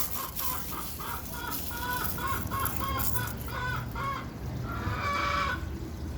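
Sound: chickens clucking

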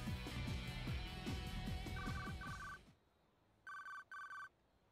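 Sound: mobile phone ringing in video game 428 Shibuya Scramble

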